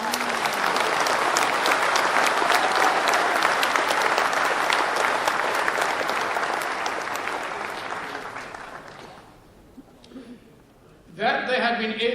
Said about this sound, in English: So, will you join me in a round of applause